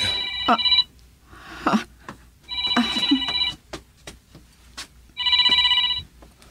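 A mobile phone rings for an incoming call in three separate bursts of a bright, repeating electronic ringtone. The gaps between the bursts are quieter, with faint background sounds.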